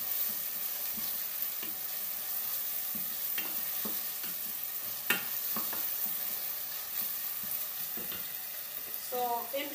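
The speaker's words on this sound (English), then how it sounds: "My onion is done. Continue mixing here too." Onion fries in a pan while being stirred, a steady sizzle with regular soft scraping strokes of the spoon throughout and a brief clink near the end, no talking.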